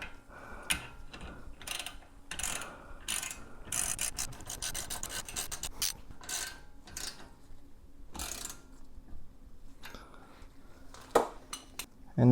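A torque wrench tightens a brake caliper bolt on a 2018–2021 Subaru WRX STI, giving bursts of close, scraping metallic ratcheting and clinking with short pauses between strokes.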